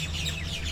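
A flock of parrots or parakeets calling together at Sydney Olympic Park: overlapping high chirps and squawks sounding as a continuous chorus over a low hum of background noise.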